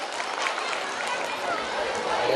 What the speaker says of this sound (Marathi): तर जोरदार एकदा टाळ्या होऊन जाऊ द्या.